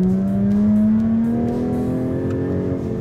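Formula One race car engine revving loud and close, a high sustained engine note climbing steadily in pitch over a few seconds with dense harmonics, no voices.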